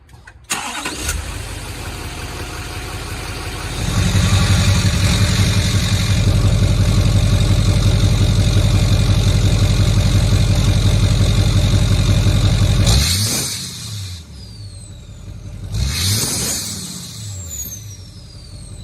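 LBZ diesel pickup truck engine cranking and starting, then idling loudly and steadily with a deep rumble before cutting off, followed by a couple of fainter knocks and swells.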